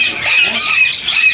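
A red lory parrot at a bird market gives loud, shrill squawks in quick succession, close by and filling the moment.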